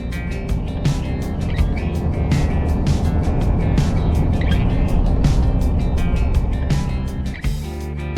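A car drives a winding, hilly country road between Binda, Tuina and Bathurst, its engine and tyre roar steady and loud throughout, with a brief dip and shift near the end.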